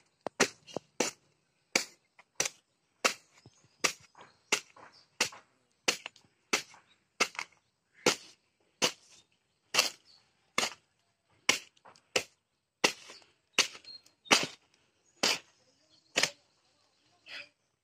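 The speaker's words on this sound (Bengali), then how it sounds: "এখন আমি এই ডাউগাগুলি কাইটে কাইটে পরিষ্কার করে নেব।" Date palm stalks being cut and cleaned: a long run of sharp, evenly spaced chopping cracks, about one per second, close and clear against near silence.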